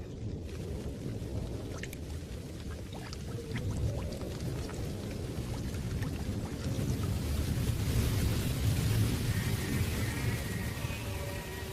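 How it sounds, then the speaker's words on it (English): Steady rain falls in a wet summer landscape, a dense continuous wash of drops with low rumbling and gusty wind noise swelling louder through the middle, with no distinct thunderclap standing out. "And the rain keeps falling."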